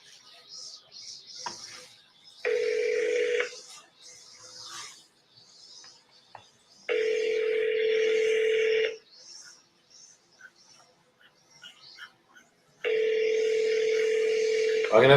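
A house phone line rings back on an outgoing call, three long steady ring tones spaced by quiet gaps, clear and close as if heard through a handset.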